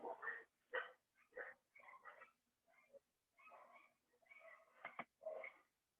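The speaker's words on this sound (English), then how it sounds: "I apologize if you can hear all the dogs barking in the background." Faint, distant dogs barking in bursts of short yaps and yips, several per second, with quiet gaps between.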